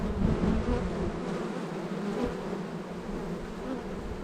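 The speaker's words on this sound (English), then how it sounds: "rolled a couple of bees" Honey bees buzz around an opened beehive in a dense, continuous close-up drone with no voices.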